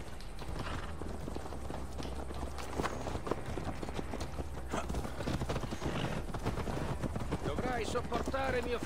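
Horse hooves clip-clop steadily while riding in Assassin's Creed Valhalla, a continuous trotting rhythm close up, mixed with game ambience and occasional voices.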